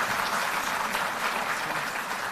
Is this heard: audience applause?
yes